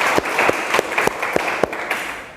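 A small group of students claps in a high school chemistry classroom, a short burst of quick, loosely synchronized handclaps close by, fairly loud, with no talking over them.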